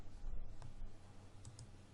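A few faint, sharp computer mouse clicks, spaced unevenly over a quiet room background.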